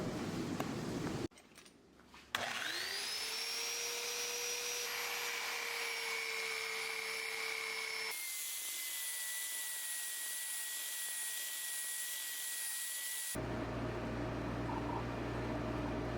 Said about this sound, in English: I'm going to take all 4 pieces over to my belt sander, get all the edges sanded up nice and smooth